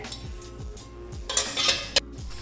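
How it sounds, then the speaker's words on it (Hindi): Metal wire stand set down inside a pressure cooker holding water, a few sharp metallic clinks and scrapes over a faint low background hum. "इसके अंदर मैं रख दूँगी एक जाली वाला स्टैंड"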